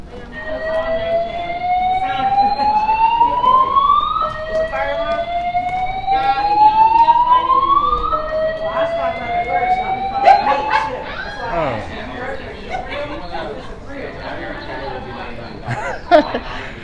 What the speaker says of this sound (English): I think this is fire alarm.